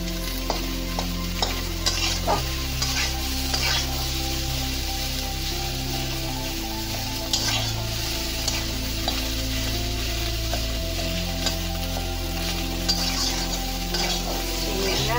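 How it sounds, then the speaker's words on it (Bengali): Chopped boiled potatoes with green chili are stir-fried in a pan for singara filling, a steady sizzle with repeated scraping and clinking of a spatula against the pan. "তো এইভাবে সেনি দিয়া আমি আলুগুলাকে একটু বাইঙ্গা দিলাম।"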